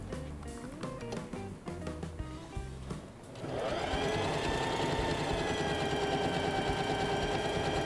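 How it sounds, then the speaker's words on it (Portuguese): Sewing machine stitching the side seam of a fabric garment in a sewing workshop, starting about midway as a steady, loud mechanical whir with a fast even rhythm after a stretch of background music. "E vou costurar só esta lateral aqui, ó."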